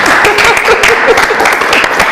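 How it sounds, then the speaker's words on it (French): Audience applause during a year-end show in Togo, a dense, steady patter of many hands clapping at close range, with faint voices mixed in. "Applaudissez pour moi"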